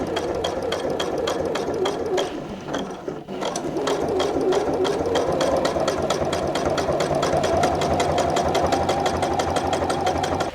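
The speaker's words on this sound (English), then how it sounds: "this machine is plowing through the denim, no problem" A Juki sewing machine stitches through thick denim in a loud, steady, rapid mechanical chatter, with a brief pause near the start before it runs on continuously and close by.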